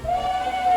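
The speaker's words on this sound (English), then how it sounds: "2 whistles were heard outside the shed" A steam engine whistle sounds outside a shed, giving one steady, clear, shrill tone that holds for nearly a second, close and fairly loud.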